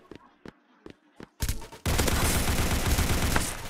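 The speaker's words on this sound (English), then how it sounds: "I'm literally shooting the man" A deathmatch in the shooter game Rush Point: several spaced single shots ring out, then a heavy, continuous stream of automatic gunfire takes over, loud and sustained to the end.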